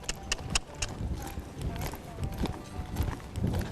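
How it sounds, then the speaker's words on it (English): A ridden horse breaking into a gallop, hooves drumming in a quick steady rhythm on the ground at moderate distance, with a voice talking over the footfalls. "let's see if he can just gallop off here"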